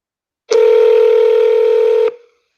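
A telephone tone sounds while calling a US senator's Sacramento office, one steady loud electronic tone lasting about a second and a half, then stopping abruptly with a short fade.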